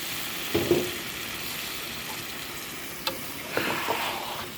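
Small fish sizzle in a frying pan as they are turned and a splash of water is added, a steady close crackle with a few brief louder bursts and spatters, no talking.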